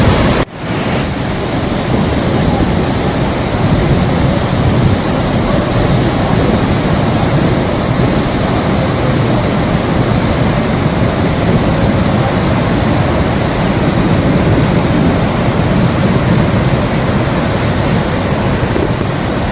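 Rushing water of the Saraswati river at Mana village, a steady loud roar of turbulent flow with wind noise, continuous throughout with no voices.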